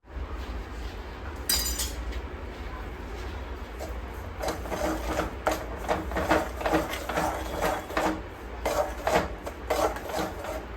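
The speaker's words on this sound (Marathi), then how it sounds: "सारखं हलवत राहायचं आहे आणि या गुठळ्या अशा मोडत राहायच्या गुळाच्या" A spoon stirs and breaks up melting jaggery lumps in a pan for sesame ladoo, giving intermittent scraping and clinking that grows busier midway. The sound is close and moderate, with no talk.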